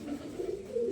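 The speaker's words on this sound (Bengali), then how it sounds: "প্রত্যেকটা পায়রা হেলদি আছে," Domestic pigeons coo in a large open loft, a short soft rolling coo close by with no talk.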